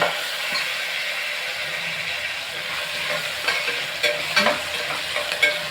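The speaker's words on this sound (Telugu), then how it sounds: "ఇది కాస్త ఫ్రై అవ్వాలన్నమాట." Idli sambar ingredients with spinach frying and being stirred in a pan, a steady close sizzle with occasional scraping clinks of the spoon, no talking.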